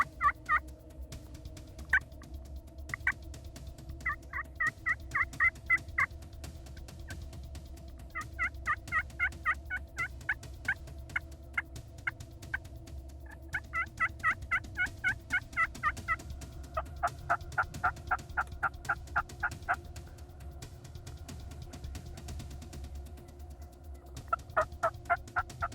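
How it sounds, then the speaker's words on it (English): Wild turkey gobblers gobble repeatedly in rapid rattling bursts, several overlapping calls carrying clearly over a steady low outdoor rumble, with no talking. "Two big gobblers start moving in from one side"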